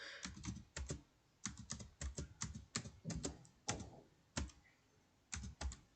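Rapid bursts of keystrokes on a computer keyboard as values are entered for a C++ for-loop program, in uneven clusters of quick clicks, close and clear with no talking.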